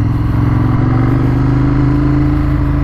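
A 2015 Ducati Monster 1200S naked motorcycle with a 145 HP engine: a loud, steady, deep engine drone that holds an even pitch throughout, heard close.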